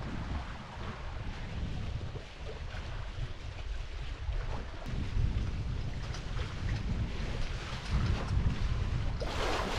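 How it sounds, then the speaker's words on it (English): A sailboat under way on open water toward a coastal key in the Everglades, with steady wind buffeting and rushing water and wave wash throughout, fairly loud and continuous with no talking. "sailing to Pavillon Key now"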